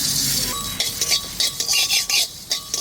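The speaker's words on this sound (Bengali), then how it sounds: "মশলাটা আমি ভেজে নেবো এবার।" Spices such as coriander frying in a pan for raw banana chops, a close, steady sizzle broken by the clink and scrape of a spoon stirring, with faint speech.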